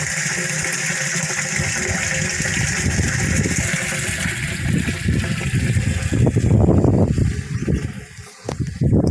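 Water gushing and splashing into a partly filled storage tank on a farm, a steady rushing flow with a low pump-like drone underneath, growing choppier and more turbulent toward the end, no voices.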